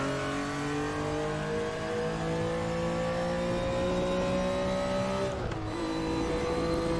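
A BMW M1 Procar race car engine in a racing video game, a loud, steady high-revving howl with rising harmonic tones that briefly dip as the driver shifts or lifts near the end, continuous with no talk.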